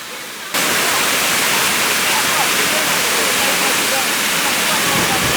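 A waterfall in Ithaca, New York, heard from right up close: after a brief quieter moment, a loud, steady, hissing roar of falling water fills everything.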